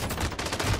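Rapid LMG fire from Call of Duty Warzone, a short close burst of repeated gunshots lasting under a second.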